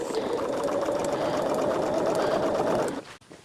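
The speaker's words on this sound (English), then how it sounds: "I've got to just get this under my needle here. Still sewing everything on that 1/4 of an inch." A sewing machine runs steadily for about three seconds, stitching Jelly Roll Irish Chain quilt pieces at a quarter-inch seam, then stops abruptly.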